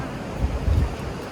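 Ocean waves wash onto a beach in a broad rushing hiss, with wind buffeting the microphone, brief and fairly loud.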